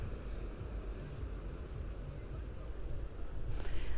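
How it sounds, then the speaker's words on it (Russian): Rough sea waves churning steadily along an Indian coast under gusty wind, a continuous low rumbling wash that swells slightly louder near the end, with wind buffeting the microphone and no clear talk. "И море тоже волнуется."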